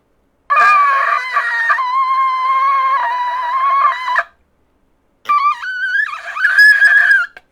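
Amateur attempt at blowing a shofar: a loud, strained, screechy horn tone held for several seconds, a pause, then a second wavering blast that cracks and rises in pitch, close and alone.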